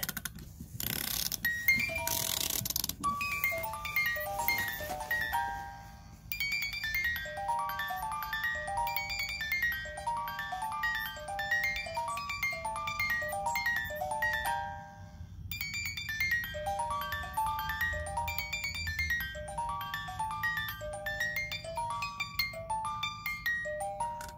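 A jewelry music box plays Beethoven's Für Elise as a delicate plinking tune for the whole stretch, with brief winding clicks at the start and a short pause midway before the melody resumes.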